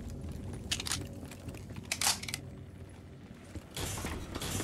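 A door creaks open with mechanical grinding in Call of Duty Black Ops 3 Zombies, a rattling scrape among a few brief creaks and clanks, moderately loud with no speech.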